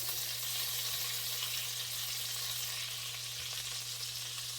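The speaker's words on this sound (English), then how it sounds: "we'll add our 2 tablespoons of butter into our wok. Just let it melt a little bit." Butter melting and sizzling in a hot wok, a steady even hiss of frying that continues without break, with a low electrical hum beneath and no talking.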